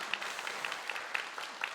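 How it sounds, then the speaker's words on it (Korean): A church congregation applauds during a Sunday worship service, with quiet, steady clapping that stays fairly even and subdued throughout, as if heard from some distance back in the sanctuary. "한번 박수로 격려하겠습니다"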